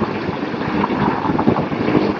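Motorcycle engine fitted with an aftermarket muffler, running steadily with a bassy, rough drone that stays loud and close throughout, no voices over it.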